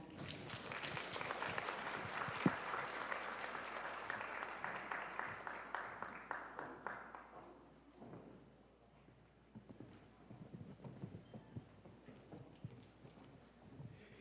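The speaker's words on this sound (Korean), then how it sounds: "박수로 맞이해 주시기 바랍니다" An audience of parents at an education office briefing applauds to welcome the superintendent, with broad, moderately distant clapping for about seven seconds that then thins into scattered claps and fades.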